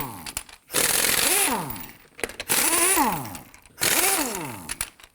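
A power tool spins a 21mm socket to loosen and remove lug nuts on a raised 2015-2024 Nissan Murano, in three loud, sustained whirring bursts with short pauses between them.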